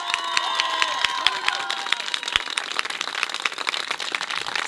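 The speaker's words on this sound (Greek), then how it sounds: "Παιδιά, πάμε χειροκρότημα για σας." A crowd at a gathering of Epirote diaspora associations in Germany applauds, with scattered claps and cheering over a busy background of voices.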